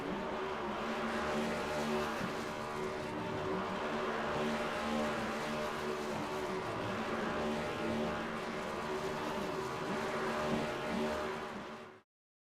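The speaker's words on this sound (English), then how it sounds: "How about this for some dual burnouts in the desert?" Two cars do dual burnouts in the desert in the iRacing sim racing game, Next Gen series at Phoenix, with a sustained, roaring engine howl and tire squeal that hold steady before cutting off abruptly.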